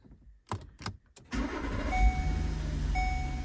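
A Volkswagen Atlas SUV with a dead key fob starts after the brake is pressed: a few faint clicks, then the engine cranks and catches, settling into a steady idle with a light whine.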